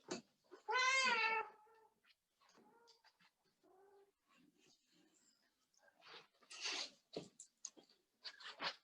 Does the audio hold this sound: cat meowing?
yes